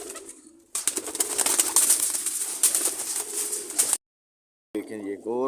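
A pigeon in a loft in Multan is handled close up, with fluttering, wing flaps and soft cooing sounds, then a pause of silence before a voice starts talking.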